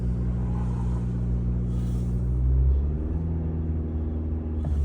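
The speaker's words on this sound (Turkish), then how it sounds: "şöyle biz birkaç saniye 2500 devirde tutalım" A car engine, idling during a battery test, is brought up and held at about 2500 rpm, its steady low hum rising and settling into a firmer drone with a slight pitch shift partway through.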